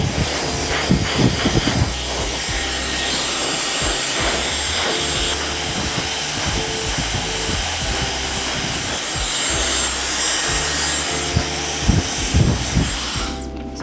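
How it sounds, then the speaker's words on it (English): A hair dryer blows a client's hair back in a barbershop, a loud, steady airy roar running throughout with faint rustling and handling noises mixed in, then cutting off at the very end. "So I'm just gonna blow dry everything back and then I'm gonna put in the part later."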